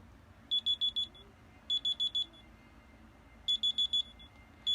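A Smart Watch T500's Find My Phone alarm sounds shrill, clean electronic beeps in quick bursts of four. The bursts repeat with short pauses over a quiet room.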